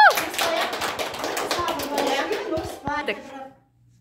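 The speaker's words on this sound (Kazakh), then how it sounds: "Қол шапалақтап қойып" Colleagues clap their hands together during a group training session, a dense burst of claps over about three seconds that thins to a few scattered claps before fading to quiet.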